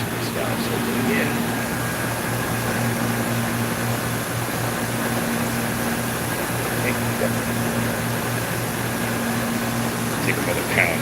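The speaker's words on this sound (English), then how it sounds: "So I'm gonna go ahead and drop just a little more refrigerant on there." Refrigerant hisses steadily out of an open service valve on an overcharged air conditioning unit, a continuous broadband rush mixed with a low mechanical hum from the running unit, close and constant throughout.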